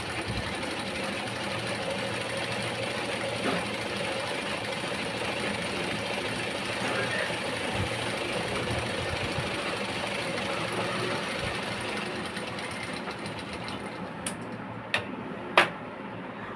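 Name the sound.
sewing machine stitching a blouse hem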